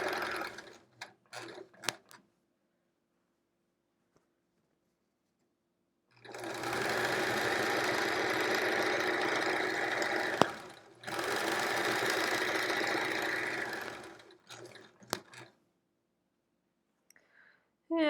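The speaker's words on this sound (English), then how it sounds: "I feel like I'm sewing a little crooked" Sewing machine stitching a quilt, near and steady, running in two long bursts of rapid mechanical chatter separated by a short pause, with scattered clicks and handling before and after.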